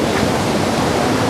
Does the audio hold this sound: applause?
no